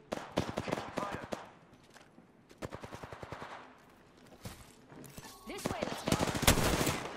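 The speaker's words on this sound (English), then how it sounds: "Taking fire. Getting shot at." Bursts of rapid automatic gunfire and single shots crackle through an Apex Legends match, moderately loud and varied in distance, with a player's voice speaking over the action.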